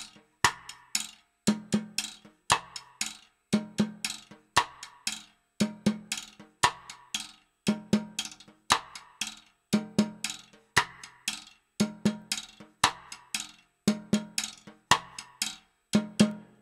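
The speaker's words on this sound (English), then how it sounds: "the right hand's playing the rim, the left hand's playing the cross stick and the middle of the drum" A single drum plays a repeating cha cha cha groove, the right hand clicking on the rim and the left hand mixing cross stick knocks with strokes to the middle of the head, sharp dry hits in a steady cycle, close and alone.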